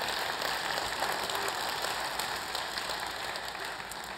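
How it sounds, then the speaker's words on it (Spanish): Congregation applauding in a church service, a steady broadband wash of many hands clapping together, moderately loud and sustained throughout. "Vamos, dale un aplauso al Rey de Reyes."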